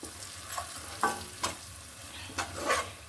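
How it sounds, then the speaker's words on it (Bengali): Chili, turmeric, coriander and cumin powder with salt frying in a pan for a cauliflower and catla fish curry, a soft sizzle broken by several scraping stirs of a spatula, close and fairly quiet with no talk. "এক চামচ মরিচ হাফ চামচ হলুদ ধনে গুঁড়ো হাফ চামচ জিরে গুঁড়ো এক চামচ পরিমাণ মতো লবণ মশলাটা আমি কষিয়ে নিব"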